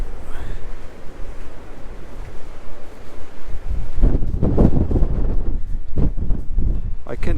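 Strong wind buffets the microphone on the Tasmanian coast, a heavy low rumble with surf behind it, then gusting bursts as a voice speaks through the wind.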